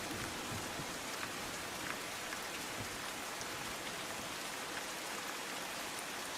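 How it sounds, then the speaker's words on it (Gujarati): Heavy rain pours in Mahuva, Gujarat, a dense, even hiss of drops on surfaces that stays constant and somewhat subdued, with no voices. "ત્રણ દિવસના વિરામ બાદ આજે ધોધમાર વરસાદ વરસ્યો હતો"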